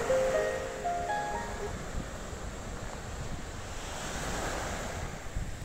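Sea waves rolling onto the shore in a steady, continuous wash, with constant wind buffeting the microphone and no voices.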